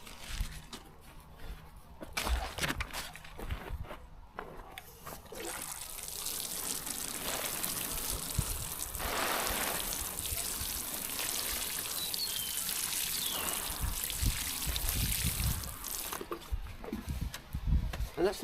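Water pours and trickles steadily onto newly planted flowers in an allotment front border, a continuous close splashing stream lasting most of the time, with a few knocks and rustles at the start.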